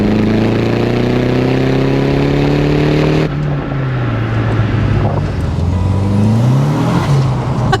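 A VW Golf GTI MK2 turbo pulls hard through second gear, a loud close engine note rising steadily in pitch, dropping at a shift, then climbing and dipping again as the revs swing.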